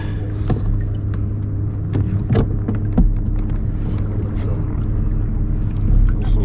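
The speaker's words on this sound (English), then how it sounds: "free tow. With the electric motor." A small boat is towed by an electric outboard motor on open water near North Haven. A loud, steady motor hum and water rumble fill the whole stretch, with occasional knocks and splashes.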